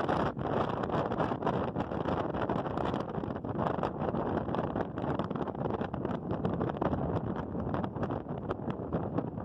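Strong wind at Niagara Falls buffets the microphone with a loud, constant roar and gusty rumble that does not let up.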